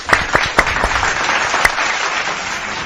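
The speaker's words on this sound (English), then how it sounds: "I know I have a weird clap." A single person claps hands at a streaming desk, a handful of sharp, uneven claps up close followed by a steady hiss, with no talk during them.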